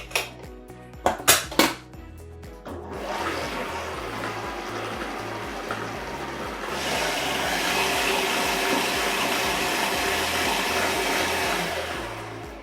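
An electric mixer beats eggs, milk and chocolate cake batter in a pan. A few clanks come first, then the motor starts into a steady loud whirring drone that grows fuller and continues alone.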